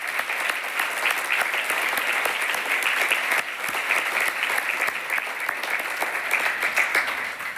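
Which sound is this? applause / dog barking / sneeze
applause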